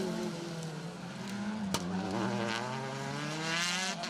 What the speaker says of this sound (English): Still great to see that Peugeot R5 car out on rallies after being campaigned by John Griffiths previously on selected events.